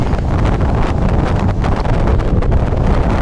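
Strong wind buffets the microphone outdoors in Joshua Tree National Park, a loud continuous roaring rumble with no talking.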